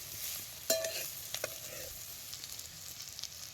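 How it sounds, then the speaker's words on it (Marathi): Turmeric and chili paste frying in oil for a green bean and peanut curry, a faint, even sizzle with a few sharp spoon clinks early on, then quiet continuous frying. "हे बी सगळं तेलात चांगलं भाजून घ्यायचं"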